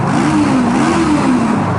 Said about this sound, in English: Can you still hear the rev bomb?